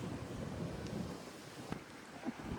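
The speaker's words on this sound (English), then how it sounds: "Such a beautiful day. Very windy." Wind blows across the Chicago River during a boat cruise, a steady low buffeting rumble against the microphone with no voices.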